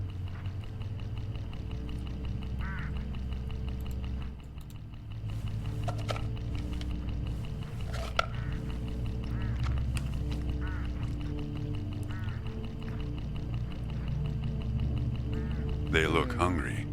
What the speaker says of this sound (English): Hooded crows all along this road.